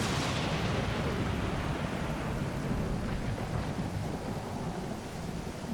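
Steady rain pours down with deep rolling thunder in the survival game Stranded Deep, a loud, continuous wash of noise that slowly eases, with no talking.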